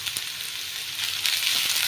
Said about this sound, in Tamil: கேரட் நல்லா அந்த எண்ணெயில் வதங்கட்டும்.